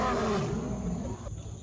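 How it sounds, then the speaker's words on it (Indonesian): A lion's loud roar sounds as the effect in a told animal story, a broad rumbling burst that starts strongly and trails off over under two seconds, alone with no talk. "Sang singa pun terbangun dengan raungan yang keras"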